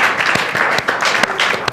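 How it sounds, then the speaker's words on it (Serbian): Loud, dense applause from a studio audience at a televised singing competition show fills the moment, a continuous patter of many hands clapping with no break. "Molim vas, veliki aplauz."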